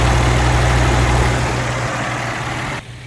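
A 1967 AMC Rambler Rogue with a newly installed Chicago Carburetor idles close by with a steady, loud, low rumble that holds even before dropping off abruptly near the end.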